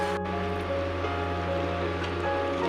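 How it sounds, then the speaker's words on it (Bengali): Water and curry for Kashmiri dum aloo boil in a pan, giving a steady, dense bubbling rush close up, with a faint low hum underneath and no speech. "জলটা ফুটে উঠেছে, এটা কারিটা ফুটে উঠেছে।"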